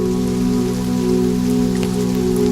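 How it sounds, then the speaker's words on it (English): Heavy rain pours steadily down over thick palace walls and onto the ground, a dense, continuous hiss with a low steady hum beneath it, loud and unbroken throughout. "the sound of heavy rain pouring down over the thick palace walls"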